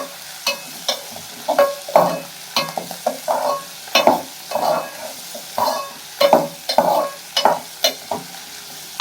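Goat liver and blood being stir-fried in a pan, a steady sizzle broken by rhythmic scraping strokes of a spatula, close and moderately loud with no voices.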